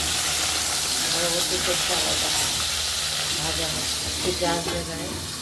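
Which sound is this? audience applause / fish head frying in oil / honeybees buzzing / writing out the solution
fish head frying in oil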